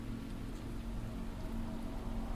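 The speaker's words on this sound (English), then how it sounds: "For 5 years, the black rain poured without end." Dense, steady rain pours without pause in the video game Dive or Die, a constant hiss of close, heavy downpour with no other sounds.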